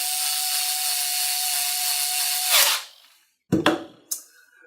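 A small power drill set with a torque limit drives stainless screws into a holster, its steady high whine running for a couple of seconds before cutting off, then short bursts of spinning and clicking as the screws seat snugly.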